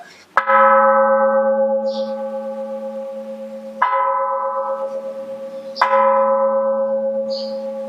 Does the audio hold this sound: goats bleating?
no